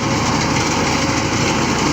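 A Massey Ferguson MF 260 tractor runs with a reaper during a wheat harvest, its engine giving a steady, loud, continuous drone with no pauses or talk.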